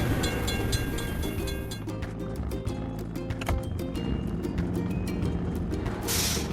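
In a mobile video game, a train rolls past a closed crossing gate, making a steady heavy rumble with fast rhythmic clatter and a short burst of hiss at the close, alone and without voices.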